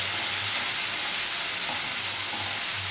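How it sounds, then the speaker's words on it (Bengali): Onion and spice masala sizzles loudly in a hot pan right after a splash of water goes in, a dense, unbroken hiss lasting the whole stretch. "এর মধ্যে দিয়ে দিচ্ছি সামান্য একটু জল, যাতে মশলাটা পুড়ে না যায়।"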